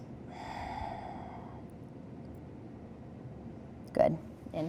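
Audible breath during a vinyasa yoga flow class: a long, soft exhale early on, then a quiet stretch and a couple of short, sharper sniff-like breaths near the end, close and low in level.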